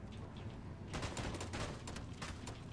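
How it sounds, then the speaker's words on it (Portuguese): Automatic M4 rifle fire rattles in a video game as a dense, continuous burst of shots that starts about a second in, faint and far-off over steady background noise. "Tá de M4, automática, vai fuzilar."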